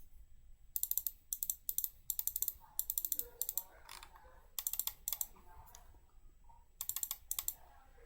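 Rapid bursts of clicking on a computer keyboard during a coding session, clusters of sharp keystrokes separated by short pauses, close and fairly loud.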